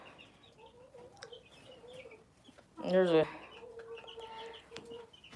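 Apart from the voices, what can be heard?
backyard chickens clucking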